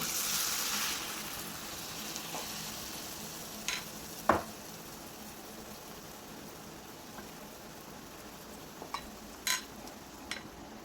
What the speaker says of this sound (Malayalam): അത് അവിടെ നിന്ന് ഫ്രൈ ആയി വരട്ടെ.